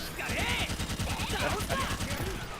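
Rapid machine-gun-style bursts from a giant gun in a video game, steady rhythmic shots layered with whooshing effects, while someone talks over the firing.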